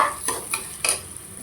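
Ginger garlic paste is sautéed in a pan for paneer biryani, heard as three or four quick metal scrapes of a spoon against the pan over a soft sizzle.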